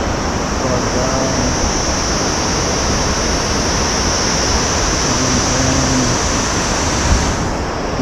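Waterfalls along the Manaslu Circuit trek in Nepal pour in a loud, steady broadband roar, with wind buffeting the microphone and a faint voice briefly audible beneath the rush.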